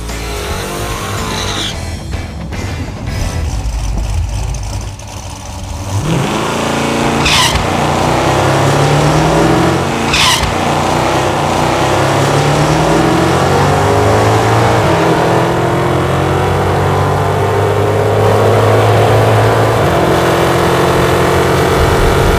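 Hemi-powered drag car on a drag strip: a loud idle and burble, then a hard launch with tire squeal and a roaring, rising engine note as it accelerates away through the gears, staying loud throughout.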